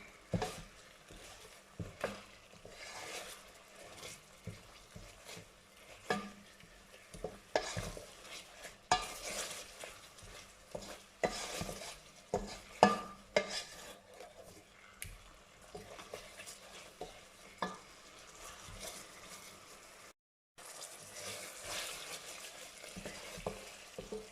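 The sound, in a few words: stirring green curry paste with chili in pan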